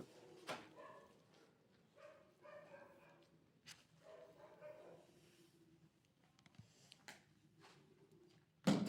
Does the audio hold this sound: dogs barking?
yes